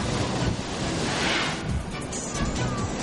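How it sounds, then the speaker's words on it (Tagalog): Large Manila Bay waves crash against the Roxas Boulevard seawall in stormy weather, a dense continuous roar of surf and spray heavily mixed with gusting wind buffeting the microphone. "Higante mga alon mula sa Manila Bay ang nasaksihang humampas sa gilid ng Ross Boulevard kanina umaga"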